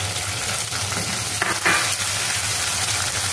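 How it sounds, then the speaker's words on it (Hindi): Chopped onions fry in a pan with cumin, a steady loud sizzle throughout with a couple of brief crackling bursts, no voices. "और अब हम इसमें डाल देंगे ये कटी हुई प्याज"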